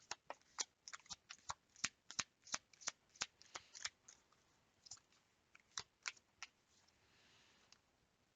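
Romance Angel oracle cards are shuffled by hand, giving a quiet, close run of crisp riffling snaps in a fairly even rhythm that slows and thins toward the end.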